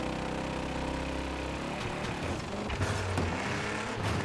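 A rough-running car engine in a video game, a steady low drone with knocks and rattles breaking in during the second half, loud and continuous with no talking.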